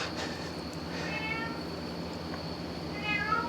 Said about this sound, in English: Oh, it's the cat.